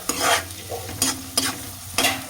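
Chicken liver fry sizzles in a pan as a spatula stirs it in three or four quick, close scraping strokes, each followed by a brief lull.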